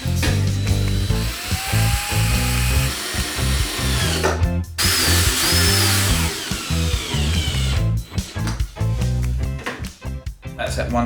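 Power drill driving screws into the boards of a wooden crate box, whining in repeated close bursts with brief pauses between, mixed with steady background music.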